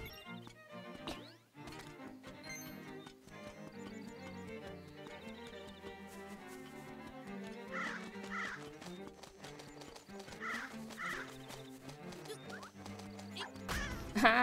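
Birds in Link's Awakening squawk and cluck in short, faint bursts over steady chiptune game music.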